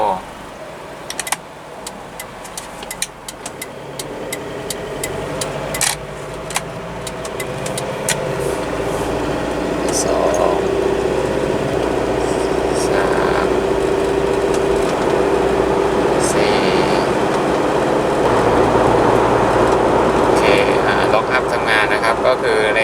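An Isuzu MU-7, two-wheel drive, is taken on a test drive after a gearbox overhaul. A steady engine and road drone builds as it gets under way, with a few clicks and jangles inside the cabin, and someone talks over it.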